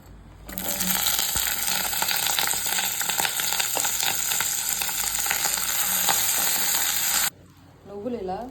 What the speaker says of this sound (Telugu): ఇప్పుడు ఇందులో 1 టేబుల్ స్పూన్ ఆయిల్ వేసి మిర్చి వేసి గోలించాలి